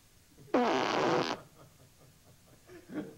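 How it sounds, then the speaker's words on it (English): A horse farts once in a loud, raspy burst lasting under a second, followed by faint low voice sounds. "the horse continued to fart through the entire take"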